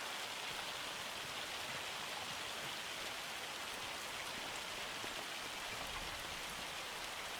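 Steady rain pours down in the farming game Farming Simulator 25, a dense, continuous hiss that holds level throughout with no voices over it.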